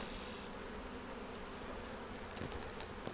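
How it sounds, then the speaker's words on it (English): A dense, steady hum of many bees buzzing together, close and continuous, with no voices. "So that's a lot of bees."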